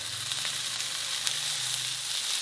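Chicken sizzling in a pan with onions that were lightly sautéed first, for a restaurant-style pizza topping. A steady, close hiss of frying continues without a break, with faint stirring ticks and no talking.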